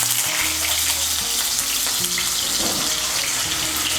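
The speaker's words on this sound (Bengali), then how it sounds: "এর মধ্যে প্রথমেই আলুগুলো ভেজে নেব।" Cut pieces of a large potato frying in mustard oil in a wok give a lively, steady sizzle with bubbling and crackling, close and continuous, with a few low knocks beneath.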